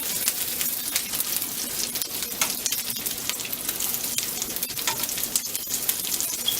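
Meatballs browning in a pan of spaghetti sauce give off a loud, continuous sizzle and spatter, dense and close throughout with scattered sharper pops.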